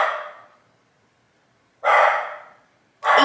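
Two dachshunds barking indoors in a house on a building site, with three loud, close barks: one at the start, a long one midway and another at the end, separated by silence.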